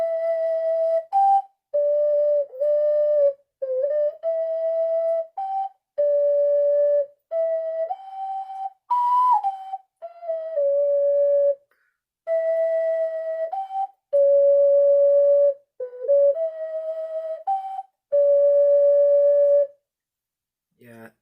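Link's Lullaby is played on an ocarina as a series of pure, breathy sustained notes separated by short pauses, clear and close with no other sounds.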